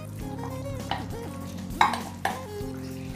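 Marinated chicken is stirred into boiling gravy in a pan, giving soft bubbling and simmering with a few sharp scrapes and clinks of a spoon against the pot.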